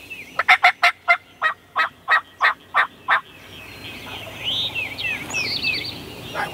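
A wild turkey gobbles in Mississippi hardwood forest, a loud, fast series of about ten rattling notes close by, followed by softer bird calls and chirps in the background.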